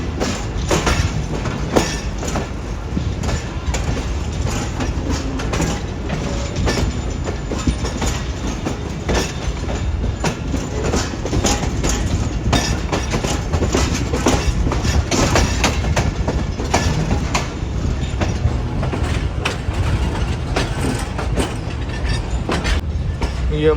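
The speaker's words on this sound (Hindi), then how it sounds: "प्लेटफॉर्म नंबर 5 की तरफ बढ़ रही है ट्रेन इस वक्त हमारी" A Pakistan Railways train rolls toward platform 5 at Multan Cantonment, curving past the loco shed, with steady rumbling and clickety-clack of wheels over rail joints throughout, close and continuous.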